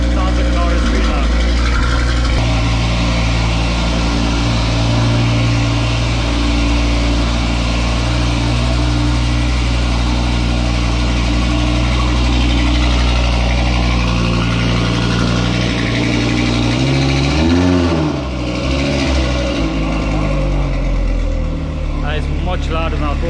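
A tuned 2020 Audi RS3 with its particulate filter removed runs on a dyno, its engine roaring loud and steady at close range throughout, with a brief dip and swell in revs near the end.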